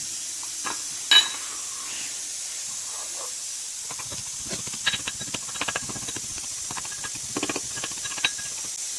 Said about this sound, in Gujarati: તો આપણે લસણ ખાંડવાનું ચાલુ કરી દીધું છે.